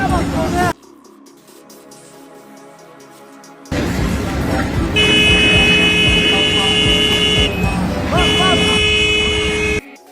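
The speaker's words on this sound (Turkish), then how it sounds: "Kornaya bas. Bak kornaya." A vehicle horn honks repeatedly at a construction site, long sustained blasts broken by brief gaps, loud and close, with background noise and a voice calling out in Turkish.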